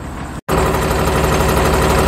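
A Cummins ISL 8.9 425hp diesel engine in a Newmar Dutch Star motorhome idles steadily and smoothly up close with a deep, even rumble and vibration, after a brief cut at the start.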